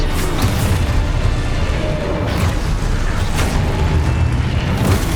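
Spell explosions in the video game Hogwarts Legacy, a continuous loud barrage of booming blasts and crackling bursts with deep rumble, piling up one after another.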